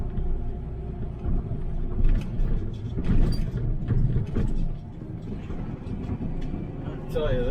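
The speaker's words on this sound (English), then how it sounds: "this truck rides rough as a cob compared to a tractor trailer" A Mack flatbed truck carrying a Moffett lift rumbles along city streets, the cab filled with a continuous low engine drone and irregular bumps and rattles from a rough ride, with a brief voice near the end.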